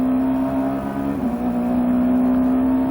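On-board view from Morbidelli's BMW touring race car in the 1995 Italian touring car championship, a loud steady engine drone with a strong tonal whine held at near-constant revs, with a slight dip and recovery midway.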